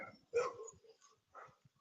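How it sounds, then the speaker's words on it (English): Dogs bark in the distance: two faint, muffled barks about a second apart in a quiet room, alone with no speech. "sorry about the dogs barking"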